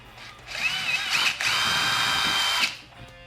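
A power tool spins out a 7mm screw under the front splitter of a C7 Corvette: a whining motor in two close bursts, the second longer and steady, with a brief ratcheting click between them.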